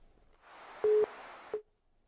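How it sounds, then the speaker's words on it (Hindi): Over a disconnected phone line, a busy tone sounds as two short electronic beeps, the first longer and the second clipped, followed by silence. "फोन डिस्कनेक्ट हो गया है बीईओ साहब का भी।"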